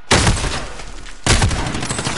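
Gunfire in the Call of Duty video game: two loud, sharp blasts about a second apart, each followed by a rough, noisy echoing tail.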